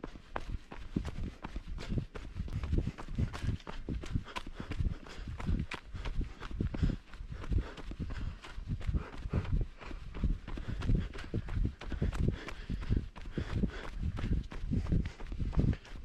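Running footsteps pound steadily along the Fire Ant Trail in the Brandon Hills, a rolling dirt loop in fall, with crunching leaves and a quick, even rhythm close by.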